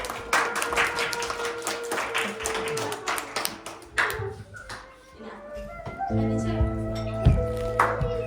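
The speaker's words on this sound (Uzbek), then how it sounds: "Qarsaklaringiz bo'lsin." Audience clapping at a 70th birthday jubilee celebration for an elderly woman, a dense patter of hands for several seconds before fading, then sustained music and voices take over.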